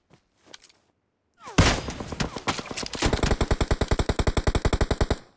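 Rapid automatic gunfire in the mobile battle royale game BGMI (Battlegrounds Mobile India): a loud burst opens, then a long steady string of evenly spaced, punchy shots that runs to the end, after faint sounds at the start.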